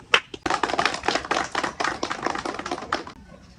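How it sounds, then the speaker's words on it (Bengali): An audience claps for a performing monkey at a street show: a burst of many hands clapping, dense and fairly close, starting after a single sharp tap and fading out toward the end. "ওর জন্য হাতে তালি দেন সবাই।"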